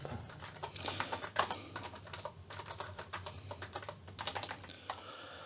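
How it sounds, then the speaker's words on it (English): Fast, irregular clatter of keys on a Tandy 200 portable computer's keyboard during typing, close and fairly loud, with no voices and a low steady hum underneath. "I'm just typing some basic program."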